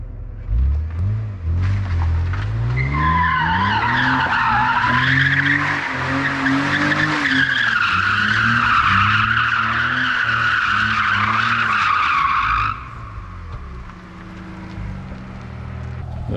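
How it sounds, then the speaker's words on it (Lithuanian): A car warms up its tyres before they are swapped for sport ones, engine revving hard while the tyres squeal and skid in a long, loud, wavering screech close by, then cutting off to a lower idle rumble. "Apsišildėm padangas prieš numontavimą"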